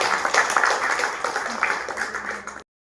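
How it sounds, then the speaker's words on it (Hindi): An audience at an International Women's Day school event applauds steadily for a few seconds, a dense crowd clapping at moderate volume before it cuts off abruptly. "इन पंक्तियों के लिए जोरदार तालियां हो जाए।"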